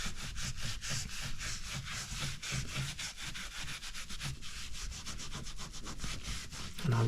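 Towel rubbed briskly back and forth over a wooden surface on a garage project, a steady rhythmic scrubbing of close strokes heard alone for several seconds.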